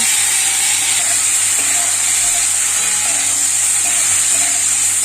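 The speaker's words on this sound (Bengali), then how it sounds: "প্রথমে আমি চিংড়ি মাছটা ভেজে নেব" Shrimp fry in a hot pan of oil, giving a steady, dense sizzle that holds evenly from start to finish with no pauses or talking.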